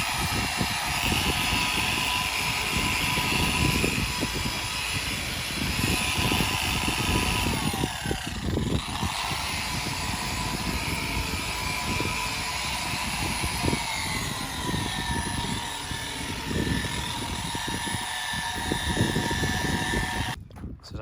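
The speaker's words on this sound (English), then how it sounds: "The machine polisher and the medium cutting pad" A machine polisher with a medium cutting pad works the fuel tanks of a Volvo FH truck, giving a continuous loud motor whine and rough buzzing drone that runs steadily throughout, with a brief dip partway through and no talk.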